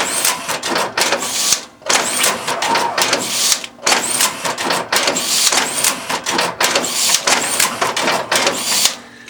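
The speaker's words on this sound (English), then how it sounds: "Now here's the machine cycling." A Mosca SARTS strapping machine cycles repeatedly, a close, loud series of rhythmic mechanical whirs, clunks and feed sounds, each cycle separated by brief gaps.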